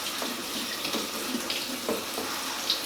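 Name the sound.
rinsing soaked red peas under a running tap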